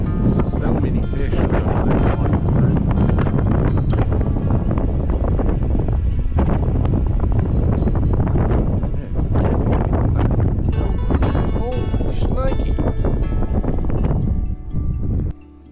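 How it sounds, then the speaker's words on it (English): Strong wind buffets the microphone outdoors beside a small pond that may be a stormwater retention pond, with loud continuous gusting rumble and rustle throughout and brief bursts of a voice over it. "Wow, that wind is ripping."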